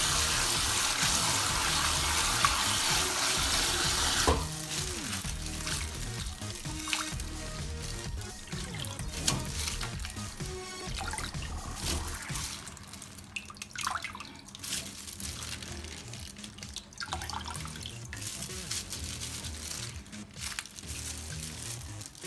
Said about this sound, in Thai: ล้างสักประมาณสองน้ำแล้วก็เอาเห็ดที่นึ่งแล้ว มาล้างน้ำ